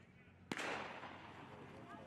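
A starting gun fires once at the start of a junior cross country championship race in Tallahassee, a single sharp crack followed by a rising crowd and runner rumble, with an announcer's voice in the background.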